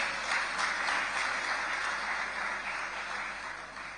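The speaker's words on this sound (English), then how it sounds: "can I hear the round of applause?" A steady, dense round of crowd clapping greets the sponsor Dangote Group at a live morning event, sounding somewhat distant and gradually tapering off toward the end, with no speech heard over it.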